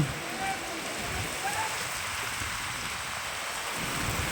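Heavy rain with strong wind pours down in a dense, constant roar in Vadnagar, Gujarat, with no break in the hiss for the whole stretch.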